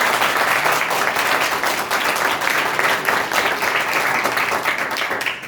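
A church congregation claps during a sermon on women's role in ministry, dense and loud hand clapping running continuously throughout at a constant level.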